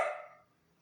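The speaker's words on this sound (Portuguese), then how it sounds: "tem um cachorrinho aqui atrás, aqui, pessoal." A small dog gives a single short, high yip nearby, faint and quickly fading into near-silence.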